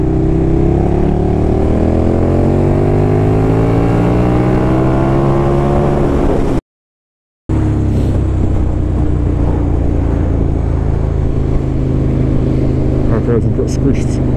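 A 2019 KTM Superduke R engine revs hard during an overtake, its loud droning pitch climbing through the gears over heavy wind rush, with a brief dropout midway before the roar resumes.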